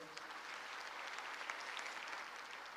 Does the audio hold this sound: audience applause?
yes